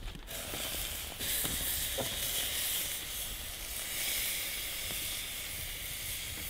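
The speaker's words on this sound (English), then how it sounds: "Sear it on high heat, flip it, and then we're gonna put it on low and keep it covered." Food searing in a pan over high heat in a lakeside cabin kitchen, a steady, close hiss and sizzle that holds throughout with small crackles and no talking.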